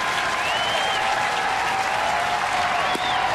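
A baseball stadium crowd cheers and applauds steadily at a Cleveland at Baltimore game, a dense roar of clapping and voices, while faint whistle-like tones drift over it.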